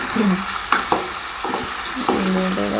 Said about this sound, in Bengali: ডিমটা আলুটাকে ভেজে নিচ্ছি, ভেজে নেওয়ার পরে তুলে নেবো